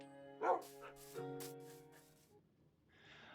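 Minecraft dogs bark in a few short yips and woofs, followed by a soft whimper, with faint game sounds in the background.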